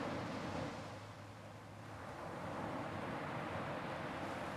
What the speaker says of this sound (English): The magic of waves is that they are cyclical without being repetitive or